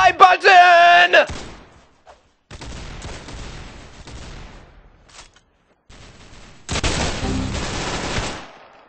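Gunfire in the Roblox game Arsenal: loud, close bursts of shots in separate clusters with short gaps between them, and an excited voice shouting over some of them.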